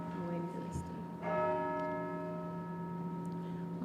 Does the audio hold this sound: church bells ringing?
yes